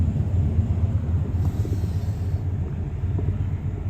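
A train rumbling past near a road, heard from inside a car on a road trip, a steady low, continuous roar with faint traffic noise over four seconds.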